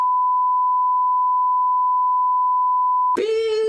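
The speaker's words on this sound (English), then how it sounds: "just a nice long beep on that" A steady, pure censor bleep tone holds for about three seconds, then cuts off abruptly as a voice begins.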